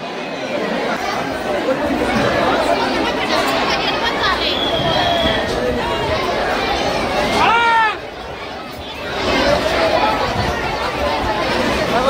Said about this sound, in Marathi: गर्दी कशी आहे? गर्दी भयानक गर्दी.